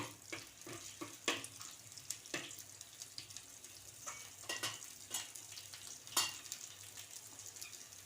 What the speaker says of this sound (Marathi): तर आता आपण ते चांगलं परतून घेऊया आता थोडंसं हलकंसं परतून घेऊया ते